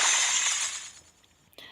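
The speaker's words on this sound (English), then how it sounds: "the card split open with a small explosion sound" Card splitting open with a small explosion in the Lost Alice video game, a bright shattering burst that fades over about a second, followed by a faint glassy chink.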